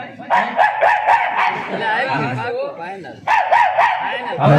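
A dog barks repeatedly in quick bursts, close by, with people talking over and between the barks.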